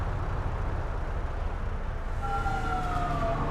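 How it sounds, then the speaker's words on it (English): Ambulance siren in the video game GTA 5, a wailing emergency tone rising over a constant low engine rumble in the second half, fairly loud and without talk. "Ambulance rolling out."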